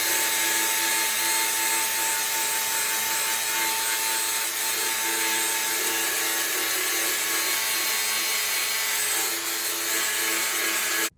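A wire wheel scours rust and corrosion from a car's bent chassis, giving a loud, continuous abrasive whirring and rubbing that holds steady for about eleven seconds before cutting off.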